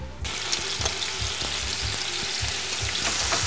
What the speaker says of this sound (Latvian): un tagad vēl apcepšu lielo fileju olīveļā, sakarsētas pannas kopā ar burkāniem un sīpolu